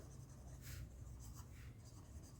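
Handwriting with a pen on paper during a math lesson: faint, soft scratchy strokes in short irregular bursts over a steady low hum, with no talk.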